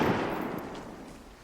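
Machine gun fire from an M249 in the video game Vigor, a single loud close burst that decays over a second and a half.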